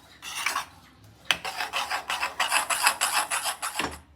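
Spoon stirring mango ras malai mixture in a pan over a gas flame, a close, steady scraping and rasping in repeated strokes that grow denser and more rhythmic, with a short pause near the start.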